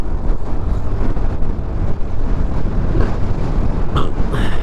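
Large waves crash against a shore on a windy coast, a loud, continuous roar of surf and wind noise with a few brighter splashes near the end.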